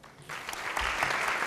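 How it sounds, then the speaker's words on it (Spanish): Audience applause after a university panel discussion: a dense wash of clapping rises sharply after a brief quiet start and holds steady and full for the rest. "Despedimos con un fuerte aplauso a los panelistas"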